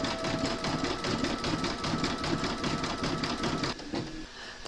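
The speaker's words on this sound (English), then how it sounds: "We're now going to stitch round number 7, and that's going to do the satin stitch border around the edge of the sole." An embroidery machine stitches a satin-stitch border around the edge of a slipper sole, a fast, even mechanical chatter that runs steadily and then stops, leaving quieter noise and a sharp click at the end.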